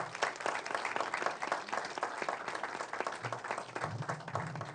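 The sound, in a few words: audience applause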